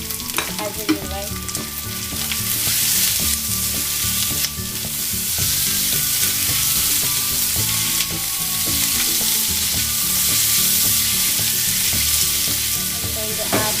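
Mutton meat frying in a pan for pasta with onion, a loud steady sizzle throughout with occasional stirring clatter, no talking.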